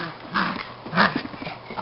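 A puppy whimpers and whines up close in two short rising cries, followed by softer grumbling noises.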